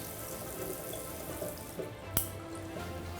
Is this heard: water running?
yes